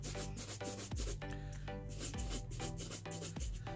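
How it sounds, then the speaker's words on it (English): Brush strokes rubbing back and forth across a leather dance shoe during buffing and polishing, a close, rhythmic scrubbing with regular sweeps and no talk. "Change the direction of the buffing or brushing or polishing so the fibers and hairs can get in all the spots you need to"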